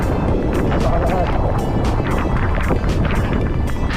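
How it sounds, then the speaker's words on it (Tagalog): Strong wind roaring steadily across the microphone, buffeting loudly throughout with gusty rumble and rushing noise, while an e-bike is pushed around by the gusts. "Grabe, lakas ng hangin."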